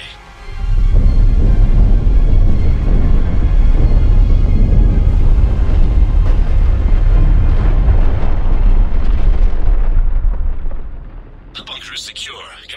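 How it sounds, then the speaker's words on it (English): A sustained, heavy roar of neutron bombardment explosions in the video game Mass Effect 3, loud and rumbling for about ten seconds before fading, with a brief synthetic tone after. "Neutron bombardment underway."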